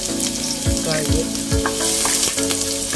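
Chopped garlic frying in hot oil until golden brown for an Ilonggo beef kansi, with a loud, continuous close sizzle, crackling spatter and occasional stirring thumps.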